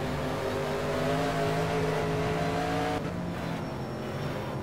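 Race car engines in a racing game braking hard into the penultimate corner, a steady loud engine drone that drops sharply in pitch as they slow, then settles lower.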